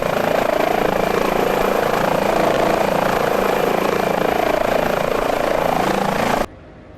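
An Airbus H145 medical helicopter flown in Microsoft Flight Simulator makes a loud, steady drone of rotor and turbine that holds constant, then cuts off abruptly just before the end.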